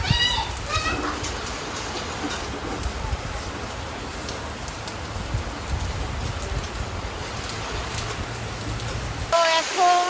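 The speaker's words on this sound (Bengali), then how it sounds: "তো এখন আমরা বৃষ্টিতে ভিজতে যাচ্ছি।" Steady rain falls during the first monsoon shower, a dense, continuous wash of drops that cuts off abruptly near the end into a different sound.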